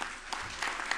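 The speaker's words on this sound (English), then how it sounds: "now give them your applause" An audience at a 2014 First Amendment awards dinner claps, a brief, fairly soft patter of many hands with a few sharper individual claps standing out.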